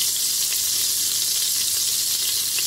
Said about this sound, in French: je mets un filet d'huile d'olive. J'attends qu'il chauffe.